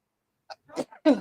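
A quick sneeze from someone close to the mic, a short intake followed by a sharp burst, with a brief sound before it and no talking around it.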